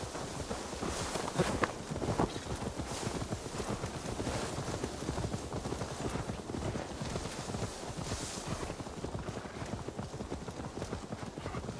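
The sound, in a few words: horse hooves clip-clopping, from video game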